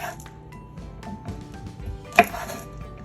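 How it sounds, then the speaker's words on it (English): A knife chops okra coarsely on a cutting board for a homemade succotash, giving soft repeated taps under a steady background hum, with one sharper, louder knock near the end. "Let's chop up our okra. You could chop those kind of coarse, if you will."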